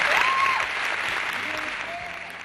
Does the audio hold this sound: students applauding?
yes